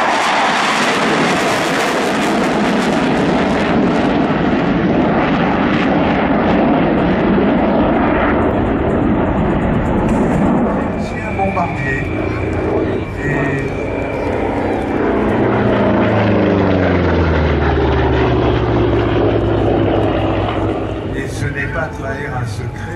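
A P-47 propeller fighter flies past at an airshow, a loud sustained engine roar with broadband rumble that shifts in pitch as it passes, with a commentator talking over it throughout.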